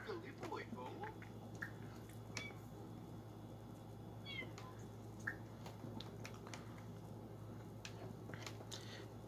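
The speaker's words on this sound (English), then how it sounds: "She's a frisky cat," A frisky cat in The Sims meows several times in short, faint calls over a low steady hum, with a voice talking underneath.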